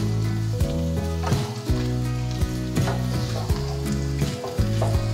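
Basmati fried rice with mixed vegetables and garlic is tossed in a pan with two spatulas: a soft sizzle broken by regular scraping and clacking strokes, with a steady hum running underneath.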